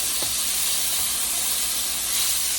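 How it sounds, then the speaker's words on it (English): Thin pork chops for honey garlic pork chops sizzle and hiss steadily in a hot pan as they are flipped, a continuous close frying crackle with a brief stir near the start. "We're going to give these a quick flip."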